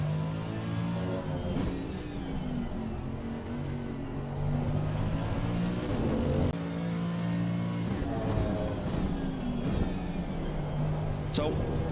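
Race car in Assetto Corsa Competizione driving a lap with repeated braking into corners, its engine tone rising and dropping in sweeps while someone talks over it.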